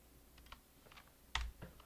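Computer keyboard keys click softly several times at close range, with one sharper, louder press near the end, in an otherwise quiet room.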